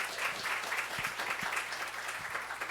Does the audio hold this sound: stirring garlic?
no